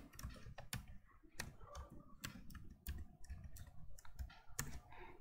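An axis label typed on a computer keyboard, a quiet irregular patter of light key clicks, close and soft.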